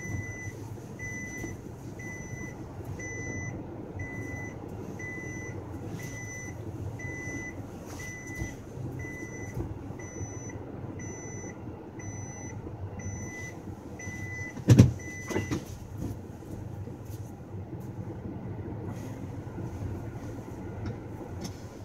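A car reversing out sounds a steady run of evenly spaced electronic reversing beeps over a low engine rumble, with a sharp knock partway through before the beeping carries on.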